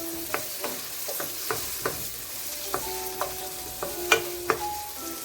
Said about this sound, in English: I'm gonna go in with my onions. The coconut oil smells so nice.